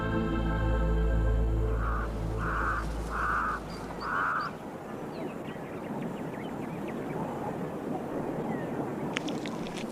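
Crows give four loud, harsh caws in a quick row over strong wind noise and a low rumble, then only the wind continues.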